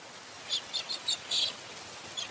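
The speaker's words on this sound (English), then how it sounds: "And cockatiels celebrate with a rain dance." Several short, high chirping cockatiel calls come in quick irregular bursts over a faint hiss.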